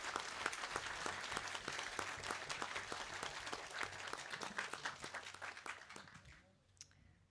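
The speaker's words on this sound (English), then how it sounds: "he deserves a big round of applause" A large audience at a Holocaust commemoration breaks into sustained applause, dense clapping that stays strong for several seconds before thinning out and fading away.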